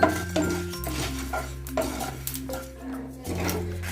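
Dry spices and dried red chillies being stirred in a pan over a medium gas flame, with clinks and scrapes of a spoon against metal and a faint background hum.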